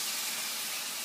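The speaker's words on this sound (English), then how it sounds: "we're going to put all our chicken and marinade right onto the pan" A steady, bright hiss of chicken and marinade sizzling in a hot pan, continuous and close.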